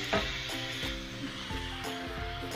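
Butter sizzles in a pan with sautéed bean sprouts, a steady crackling fry with occasional clinks and scrapes of stirring, close and continuous throughout.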